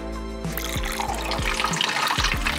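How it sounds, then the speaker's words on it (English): Water poured through the lid of a toy mystery container, a steady splashing, trickling flow with gurgling pulses, close and fairly loud, with no talking. "Next, we get the lid and pour this through the lid."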